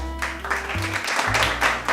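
Applause from a studio audience on a holiday-movie talk show, a steady dense patter of clapping lasting about two seconds at moderate loudness, with a low hum running underneath.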